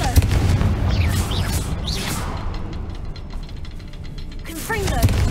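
A Confringo blasting curse in Hogwarts Legacy bursts with loud booming blasts and whooshes, continuous dense rumble throughout, with voices calling out over it.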